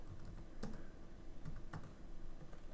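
Typing on a computer keyboard: faint, soft key clicks scattered over a few seconds beneath a steady low background hum.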